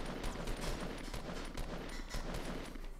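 Rapid video game gunfire crackles in dense, overlapping bursts throughout, loud and continuous with no pauses, automatic weapons firing alongside single shots.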